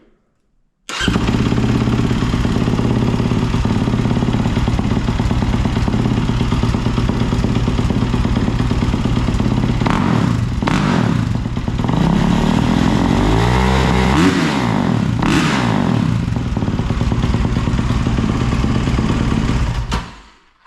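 A 2026 Yamaha YZ450F motocross bike with its stock exhaust fires up and runs loud and close for about twenty seconds. A steady idle carries through, with a few throttle blips toward the end.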